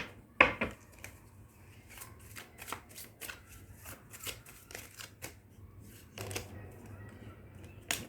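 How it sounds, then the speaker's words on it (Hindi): Tarot cards are shuffled and drawn from a deck in a soft, continuous rustle of riffles and flicks, close and quiet, with a sharper snap near the start. "चलिए इस डेक से कार्ड्स लेते हैं"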